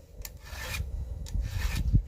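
A hand file rasps across chainsaw chain teeth in three separate strokes, each a short gritty scrape, close and alone with no talk.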